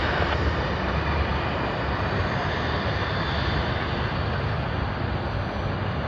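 An airliner's engines roar during its takeoff roll at Sydney Airport, a loud, dense, unbroken wash of noise that stays level for several seconds with no voices.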